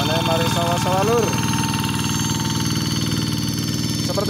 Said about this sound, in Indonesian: Seperti biasa, suara bising pasti tidak asing. Ya, traktor sawah lur.